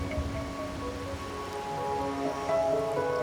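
Steady rain pours down in the video game Wuthering Waves, a continuous dense patter on surfaces, with a faint tonal music bed underneath.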